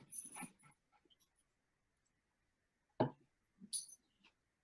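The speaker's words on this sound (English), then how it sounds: "And that was my dog." A dog whimpers and yips in short, thin bursts separated by long silences, fairly close but soft, with no one talking over it.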